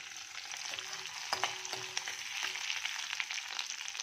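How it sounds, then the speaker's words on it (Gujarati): Green chillies frying in hot oil in a pan give a steady, close sizzle with occasional stirring clinks, faint and continuous throughout. "આપણા મરચાં તેલમાં ફ્રાય થઈ ગયા છે"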